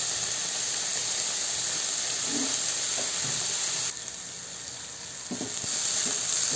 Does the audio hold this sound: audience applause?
no